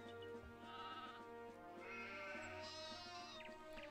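Sheep bleat faintly in the Anno 1602 strategy game, a few wavering calls rising over a steady bed of background music and game ambience.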